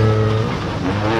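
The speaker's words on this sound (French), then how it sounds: "C'est un moteur atmosphérique, un des derniers moteurs atmosphériques en 2 litres de cylindrée." A Peugeot 207 S2000 rally car with a 2-litre naturally aspirated engine, at a rally stage, roars loudly and close by with a steady high-revving tone, with hints of tyre noise.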